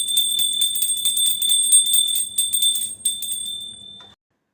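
A hand bell rung steadily during a Hindu worship offering of incense and lamp, a bright, close, continuous metallic ringing that goes on for about four seconds and then stops abruptly, with no talking.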